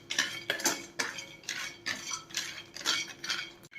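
Dry fruits stirred continuously in a pan over a medium gas flame, a spoon scraping and clinking in quick, regular strokes about twice a second, close and clear.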